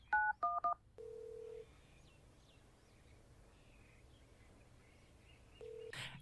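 A telephone keypad in a video game is dialed for 911, with a quick burst of close DTMF tones, then a steady dial-style tone and a brief final beep over faint background hiss.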